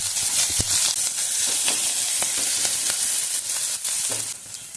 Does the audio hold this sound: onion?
yes